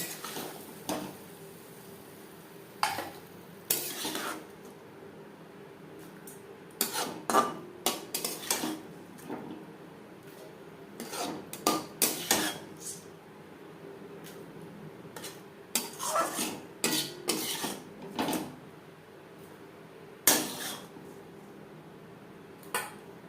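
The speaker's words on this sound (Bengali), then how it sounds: "গ্যাসের ফ্লেমটা বন্ধ করে দেব, একটা পাত্রে উঠিয়ে নেব।" Cooked chicken for butter chicken is scooped from a wok into a bowl, giving sparse, quiet metallic clinks and scrapes of a utensil against the pan in bursts, with no talk.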